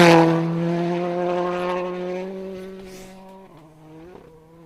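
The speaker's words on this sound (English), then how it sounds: "I can hear a rally car, and it's Josh." A rally car drives past on a stage of the Circuit of Ireland Rally, its engine loud and near at first with a steady strong drone, then fading as it moves away, with a brief rise near the end.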